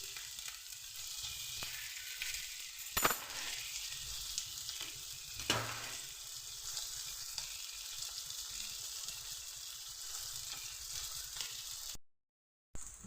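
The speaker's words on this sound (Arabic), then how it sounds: "انا نقلي هاد الطراف من الدجاج تاعي" Chicken pieces fry in a pan, with a continuous close sizzle, two brief clatters of turning or stirring, then a sudden cut to silence near the end.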